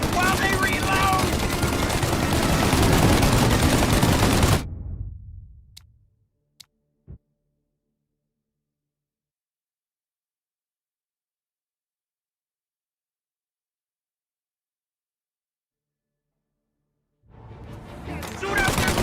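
Gunfire in a Mafia Definitive Edition shootout: a dense, loud barrage of shots with voices for about five seconds, then a few isolated sharp cracks before a long silence, and the din returns at the end.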